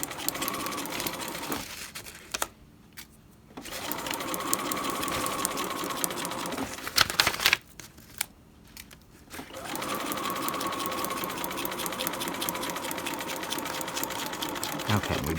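A sewing machine stitches an overlap seam on sheer, transparent fabric, running in steady, close bursts broken by short pauses, then starting up again.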